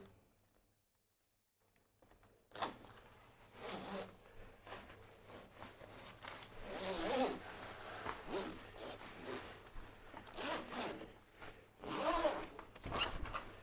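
A zipper on anti-entrapment bumper padding for a top rail is run along in several long zipping strokes, fairly close and moderately loud, with quiet handling noise between pulls and no talking.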